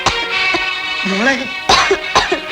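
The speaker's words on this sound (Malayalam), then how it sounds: "എന്തൊരു ചുമയായത്?" A woman coughs harshly several times in a row, close and loud, with a strained, voiced groan between the fits, in a dramatized indoor scene of someone ill with chest pain.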